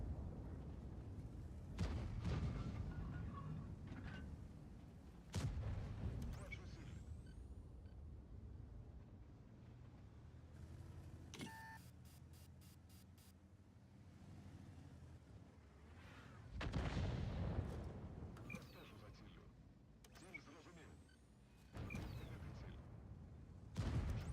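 Tank cannon fire from a WZ-113G FT tank destroyer in an online tank battle game: several heavy booming shots with rumbling tails, loud and spaced through the clip, over steady battle ambience.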